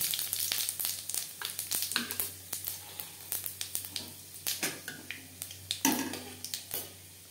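Two broken dried red chillies and panch phoron fry in hot refined oil, giving rapid close spattering crackles and pops over a low sizzle, each burst quickly fading.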